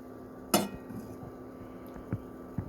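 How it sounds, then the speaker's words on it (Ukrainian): A single clear clink of utensil against a plate as pieces of homemade canned herring are laid out, followed by a couple of softer taps, close and quiet. "Так я викладаю на тарілочку"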